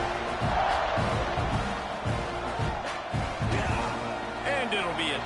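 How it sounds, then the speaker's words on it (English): A college football stadium crowd at a Texas A&M versus Michigan game buzzes after a score, a broad, sustained roar of many voices with scattered shouts, while a commentator talks over it. "this crowd is buzzing after that last score."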